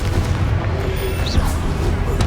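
Confringo explosive spell blasts in the video game Hogwarts Legacy, a dense, loud rumbling barrage of booms and bursts in busy combat, with no distinct single impact standing out.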